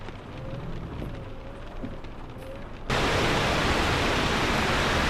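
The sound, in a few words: rain falling outside in Euro Truck Simulator 2 video game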